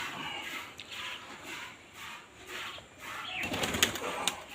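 Pigeons flap their wings in flight, soft fluttering bursts that build into a louder flurry near the end, with no talking.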